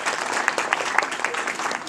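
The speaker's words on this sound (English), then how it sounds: "So let's give Mr. Bill Plotz a round of applause for his volunteers." Round of applause from a Cub Scout pack audience at a Blue and Gold gathering, brief and steady with a few sharper claps standing out.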